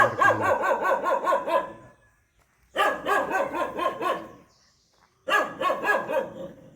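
A dog at an old traditional house in Palakkad barks in three rapid bursts of repeated barks separated by short pauses, loud and fairly near, with no talk over it.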